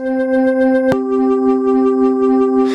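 A sampled synth pad loops forward and backwards, holding steady sustained tones with a faint repeating pulse in its texture, a brief click near the start and a soft noisy swell toward the end.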